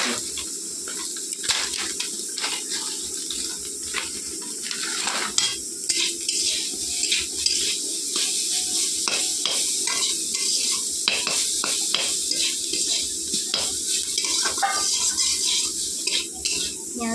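Leafy greens stir-fried in oil with chilli and turmeric, a continuous sizzle broken by frequent spatula scrapes and clinks against the pan, close and steady.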